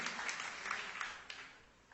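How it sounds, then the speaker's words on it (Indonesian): A church congregation applauds: soft, distant clapping under a sermon's room ambience, faint and even, tapering slightly toward the end. "Tepuk tangan yang meriah untuk kemuliaan Tuhan"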